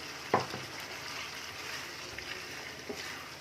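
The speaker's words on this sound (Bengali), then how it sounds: "এবার আমি ডিমগুলো এখন এর মধ্যে দিয়ে দিচ্ছি, ঝালের মধ্যে।" Eggs are added to a spicy egg masala curry in a pan and sizzle steadily, a soft continuous frying hiss with one brief clunk near the start and no talking.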